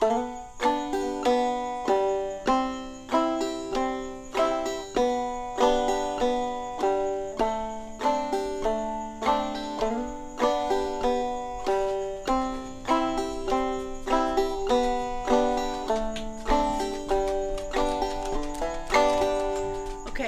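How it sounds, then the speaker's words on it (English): A clawhammer banjo picks out the bright, bouncy melody of Boil Them Cabbage Down in a steady rhythm, each plucked note ringing briefly, played alone without any voices. "when we play the basic melody of Boil Them Cabbage Down, it should sound something similar to this."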